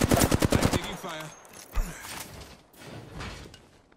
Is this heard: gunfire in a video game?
yes